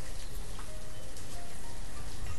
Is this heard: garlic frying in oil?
no